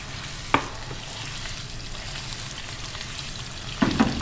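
Half a kilo of minced meat (qeema) sizzling steadily in a hot pan, with a couple of sharp clinks of a utensil against the pan; no voices.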